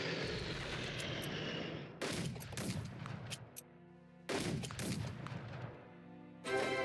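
Bombing and artillery fire in the World War II strategy game Unity of Command 2, heard as loud booming blasts and rumbling explosions in several bursts separated by short quieter gaps, with no talking.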